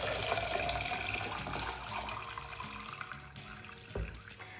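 Tap water running into a container while making clove water, a steady splashing flow close by with small shifts in pitch as the vessel fills, and a brief knock near the end.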